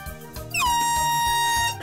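An air horn lets out one long sustained blast that starts abruptly with a rising squeal and holds a steady, piercing tone for over a second above faint background noise.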